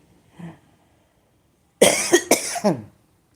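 A faint short sound, a pause, then a loud burst of two or three harsh coughs close to the listener.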